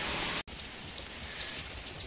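Rain pours down outdoors as a dense, steady hiss of falling water with a brief gap near the start, then continuing evenly and fairly loud.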